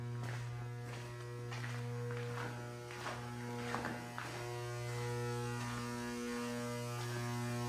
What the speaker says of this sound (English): Somebody let me know, is that bad when it's buzzing really loud like that?